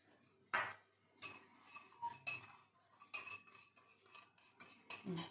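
Curd and powdered sugar being mixed in a bowl with a spoon, irregular clinks and scrapes of metal against the bowl in short bursts, close but fairly quiet against a silent background.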